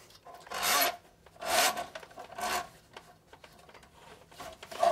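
Cable from a power drain gun scrapes and rasps as it is pulled back out of a drain, in three strong rhythmic bursts with quieter clicking and rubbing between them, close and without talk.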